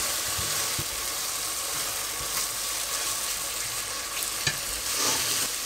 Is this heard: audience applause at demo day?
no